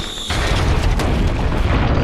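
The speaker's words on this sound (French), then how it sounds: "L'explosion perce la carlingue." A grenade explosion blows through an airplane fuselage: a loud boom erupts after a brief quieter moment, then a sustained roaring rush of air and debris fills the rest of the clip.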